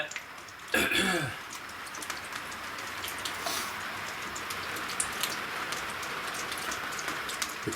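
Steady rain patters continuously on a surface, with a throat being cleared once near the start and occasional drips standing out.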